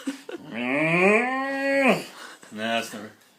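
A person imitates a donkey with the voice: one long, loud, drawn-out braying call, then a shorter second call after a brief pause, made up close.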